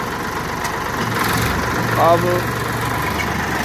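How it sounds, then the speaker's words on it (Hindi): A 1993 Massey Ferguson 1035 DI tractor engine idles with a steady low rumble and vibration, heard close, while someone speaks briefly over it. "ट्रैक्टर में धुआं नहीं है बिल्कुल भी, बहुत ही गजब इंजन है इस ट्रैक्टर का"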